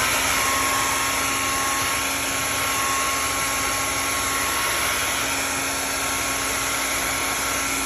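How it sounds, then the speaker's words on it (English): A portable hair dryer, used to dry watercolor paint, blows with a steady, loud whirring drone that holds constant throughout, with a high whine riding on top. "Then I brought my handy dandy portable hairdryer unit here too"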